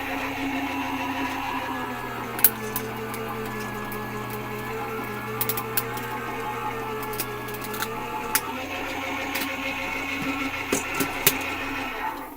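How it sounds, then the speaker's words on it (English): A die cutting machine rolls a card through for a winter snowflake design, giving a steady mechanical whirring hum with occasional sharp clicks and creaks, close and alone without talk. "You're just going to try to alternate and flip it over when you are die cutting. And I'm going to put this through."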